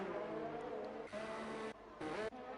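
F1 race cars in a racing video game leaving the pits, engines droning steadily with a couple of brief surges in pitch as cars accelerate past, loud and continuous without talk.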